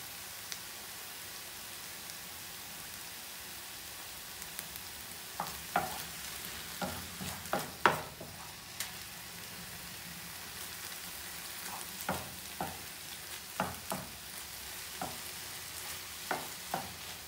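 Peppers and mushrooms fry with seasoning in a pan, giving a steady soft sizzle broken by repeated scraping and clicking as the food is stirred.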